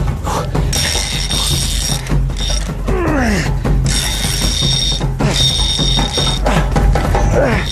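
Fishing reel drag buzzing in fast ratcheting bursts as a huge Amazon river fish pulls line, loud and close over steady boat or water noise, with a few short sweeping whines between bursts.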